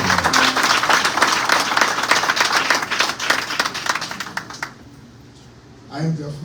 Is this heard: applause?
yes